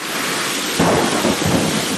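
Steady heavy rain pours in Kumartuli, Kolkata, a dense continuous hiss that swells into a louder, rumbling burst partway through, with no voices.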